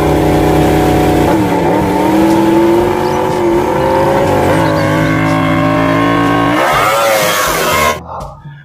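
A racing motorbike engine revs continuously and loudly, pitch sweeping up and down in several surges before cutting off abruptly near the end.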